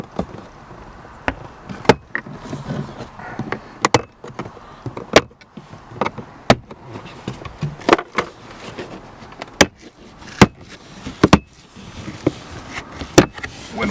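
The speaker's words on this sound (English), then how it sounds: "I'm going to use a pry tool and start on the corner and pry it up a little." A plastic pry tool works up speaker trim inside a 2014–2015 GM Silverado or Sierra truck cab, giving sharp, irregular snaps and clicks every second or so over a low interior background, close and loud, with no voices.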